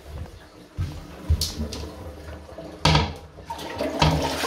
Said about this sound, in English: Toilet's flushing fine.